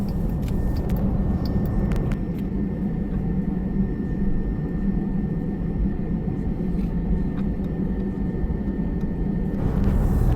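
Steady, loud cabin roar of a passenger airplane in flight, a dense low engine and airflow drone holding constant throughout with a few faint clicks and no talking.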